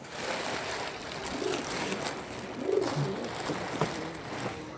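Pure Dasur pigeons coo in low, rolling calls, several short bursts at close range over a faint noisy background.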